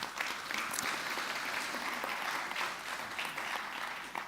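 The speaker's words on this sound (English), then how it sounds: "worthy, I think, of a round of applause for the WordPress community" An audience at a WordPress conference applauds steadily, a broad wash of clapping that holds evenly for several seconds and begins to thin toward the end.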